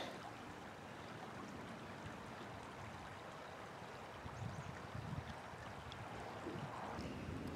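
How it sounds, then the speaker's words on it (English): A creek flows steadily with a constant broadband rush of water, close and even throughout, and a few slightly stronger gurgles partway through; there is no talking. "Otherwise the creek is flowing nicely."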